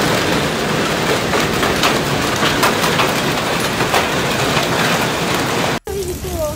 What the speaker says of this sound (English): Look at the hail.